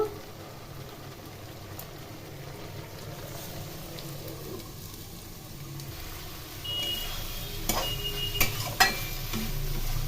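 Fried small fish cook covered over a low flame with a low, steady simmering hiss, followed by a few clicks and clatters of utensils toward the end.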